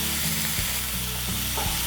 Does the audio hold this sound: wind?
no